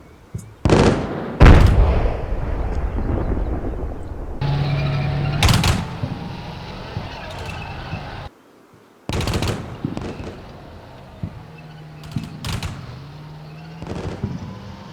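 Mortar fire in the military strategy game Combat Mission Shock Force: several loud, sharp blasts and bursts of firing, some close together, with rumbling gaps between them.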